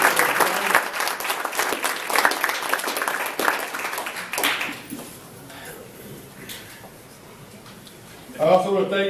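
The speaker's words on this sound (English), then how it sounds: "I think they all deserve a round of applause." An audience at a scholarship awards luncheon applauds, steady dense clapping for about four seconds that fades into room murmur before a voice speaks.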